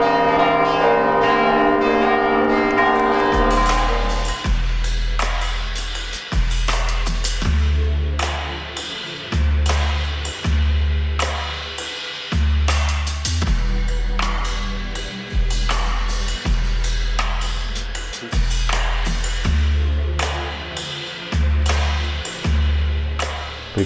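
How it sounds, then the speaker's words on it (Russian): Cathedral church bells peal in Valletta, Malta, with loud overlapping strikes in a steady repeating rhythm that resonate through the whole stretch. "А здесь какой-то собор, колокольный звон."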